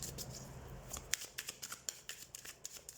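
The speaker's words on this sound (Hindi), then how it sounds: "तो सबसे पहले हम कार्ड शफल कर लेते हैं।" Tarot cards being shuffled by hand, a soft close riffle of quick papery flicks and slaps in a quiet room.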